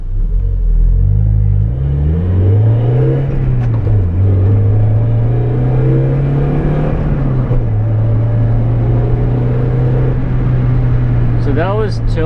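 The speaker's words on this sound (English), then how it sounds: "this is probably gonna do a 1st through 4th gear pull" A 1993 NA Mazda Miata pulls hard through its gears from interior view, the engine droning loud and near as its pitch climbs, shifts, and climbs again; a voice speaks briefly near the end.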